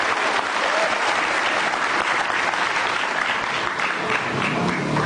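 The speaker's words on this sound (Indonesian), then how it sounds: "kasih tepuk tangan dong geng motor imut" Sustained applause from an Indonesian TV studio audience greeting a group of guests from East Nusa Tenggara, a thick, even roar of many hands clapping continuously without a break.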